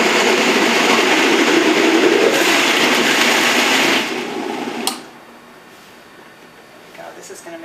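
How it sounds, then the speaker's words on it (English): A blender whirs loudly and steadily for about four seconds, condensing tomato soup ingredients, then cuts out, leaving quieter handling sounds and a brief clatter. "Blend it just to kind of condense it down so I can fit more into my blender"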